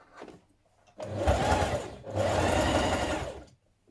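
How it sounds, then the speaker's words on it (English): A sewing machine topstitches the seam of a plush fleece onesie hood in two close, steady bursts of whirring stitching, separated by a brief pause. "we're going to press it to one side and top stitch it from the right side"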